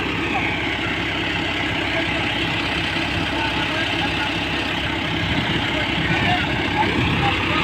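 A tractor stuck in a field idles with a steady, close, continuous engine drone while people talk over it.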